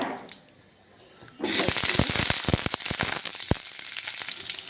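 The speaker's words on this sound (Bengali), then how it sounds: "তেলটা আমার খুব ভালো করে গরম হয়ে গিয়েছে। এবার এর মধ্যে আমি দিয়ে দেব গরম মশলা, শুকনো লঙ্কা" Garam masala and dried chillies dropped into very hot oil: after a quiet moment a sudden loud sizzle bursts up and keeps crackling with sharp pops close by.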